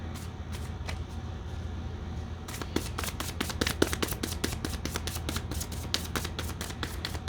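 Tarot message cards being shuffled by hand close up, a soft riffle at first and then a quick series of sharp, crisp card snaps and slaps, with no talking.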